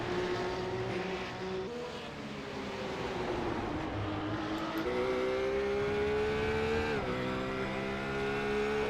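Supercar race cars lapping the Mosport circuit, including a RUF S3R7, roar with a continuous, loud engine drone whose pitch climbs and dips as the cars accelerate and shift, with no talk over it.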